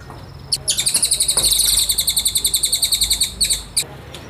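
A small cucak ijo mini songbird in a bird shop gives a fast, loud run of bright chirps in steady rhythm, pausing briefly and then adding a few final notes, with no one speaking.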